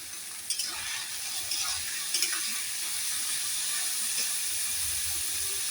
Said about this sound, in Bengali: এবার আমি তেলে ভাজা মির্চটা দিয়ে দিচ্ছি।